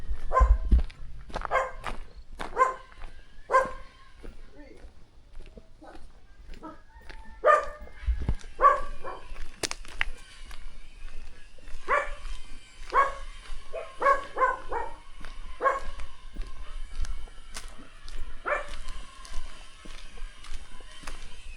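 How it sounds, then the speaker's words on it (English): A small dog barks in short, repeated bursts amid 1600s plantation ruins in St Thomas, Jamaica, with footsteps and outdoor movement between the barks at close to moderate distance. "That's the bad dog right there with them on top."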